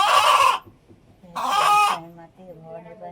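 A rooster offered at a Ghatasthapana ritual for the goddess Bhavani in Velas, Mandangad, gives short, loud harmonic clucking calls close by, with a quieter pause between bursts.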